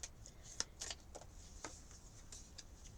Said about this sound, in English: Okay, so let's shuffle the card.